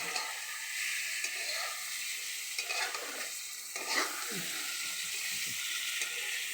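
Raw banana slices fry in a pan on a stove, Telangana style, with a steady soft sizzle broken by several scraping stirs of a spoon, heard close and fairly quiet.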